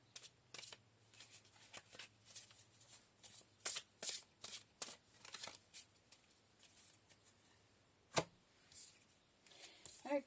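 Tarot cards being shuffled in the hands: a quick run of soft riffling flutters and taps, close and quiet, repeating in short bursts with one sharper snap partway through.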